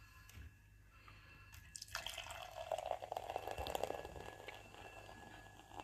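Ale poured into a glass: a soft trickle, then a fuller gushing, fizzing stream of liquid that tapers off, close and quiet, with no talk.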